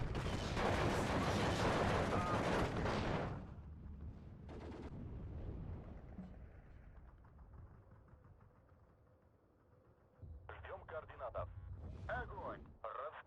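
Loud sustained barrage of gunfire and artillery explosions from a Steel Division 2 battle, dense at first, then fading to distant rumble before fresh bursts of fire return near the end.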